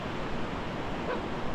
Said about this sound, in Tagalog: Malalaki yung alon ngayon.